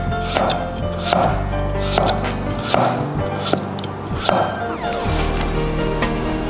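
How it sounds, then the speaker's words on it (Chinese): A knife cuts meat into slices on a cutting board, giving a steady rhythm of sharp, close chopping knocks roughly every half second. "再把肉切成片。"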